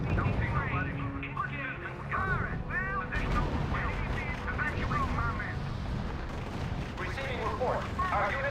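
Tank cannon fire and artillery in the RUSE strategy game, a dense battle din of booms and blasts with Italian tanks taking hits, layered under continuous game radio voices and chatter throughout.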